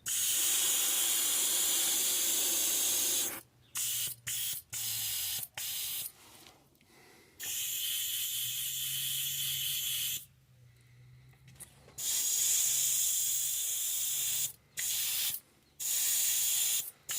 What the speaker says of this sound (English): spraying this at a low PSI is it'll clog up your airbrush really quick